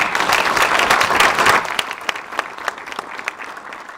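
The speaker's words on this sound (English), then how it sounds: "can we give them all a round of applause?" An audience claps for panelists after a lecture on protecting the planet, a dense burst of applause that thins into scattered individual claps as it fades out.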